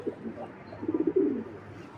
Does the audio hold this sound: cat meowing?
no